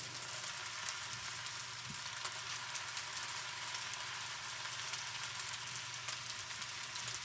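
A stir fry sizzles steadily in a slightly wobbly pan, an even, hissing crackle like light rain that carries on unbroken with no voices over it.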